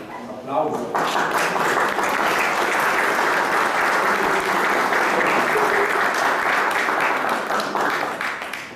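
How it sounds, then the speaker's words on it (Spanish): Sustained, dense applause from an audience welcoming a speaker at an education event, loud and steady for several seconds before tapering slightly at the end. "Vamos a acoger a Franz con un aplauso."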